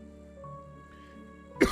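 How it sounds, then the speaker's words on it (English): A single short, sharp cough or throat-clear bursts out at the very end, loud and close, after a quiet stretch of steady background tones. "My cough's gotten bad again."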